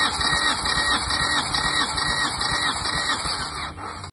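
A 2015 Hyundai Solaris 1.4 engine cranks over on the starter during a compression test, giving a steady, close, rhythmic whirring churn that runs on for several seconds with no talk.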